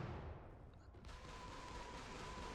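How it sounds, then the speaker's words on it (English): In the Gates of Hell war game, a rocket barrage pounds the battlefield with dense, rumbling blasts that merge into a continuous roar. The explosions stay loud throughout, and a faint tone threads through the later part. "This rocket barrage is much more effective, killing 6 of my guys"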